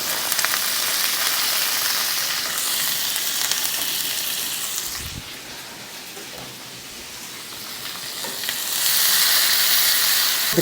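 Frozen corn sizzles steadily in a hot pan as it blackens for a smoky dip, a loud, dense crackling hiss that dips briefly midway and then swells back up, with no voices.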